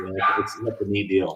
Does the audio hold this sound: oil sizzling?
no